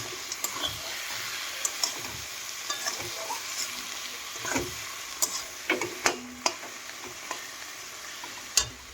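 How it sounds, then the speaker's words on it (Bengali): Fish head ghonto with bottle gourd cooking in a pan, a continuous close sizzle broken by scattered spoon clicks and scrapes as the mixture is stirred. "বন্ধুরা, রান্না করছি লাউ দিয়ে মাছের মাথা ঘন্ট।"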